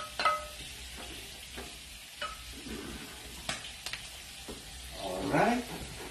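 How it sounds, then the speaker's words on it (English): Onion and garlic sauté in oil in a pan for chicken cacciatore, a soft steady sizzle broken by scattered stirring clinks and scrapes, with the frying swelling louder near the end. "And we put the onion and the garlic,"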